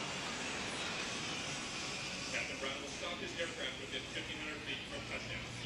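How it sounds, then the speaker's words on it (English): An A-10 Warthog jet engine roars and builds as the aircraft passes by at an air show, with a voice talking over the noise. "And now watch this Warthog"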